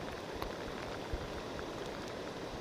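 Steady rain hisses across the whole clip, a dense broadband patter with a couple of louder drop hits, no voices.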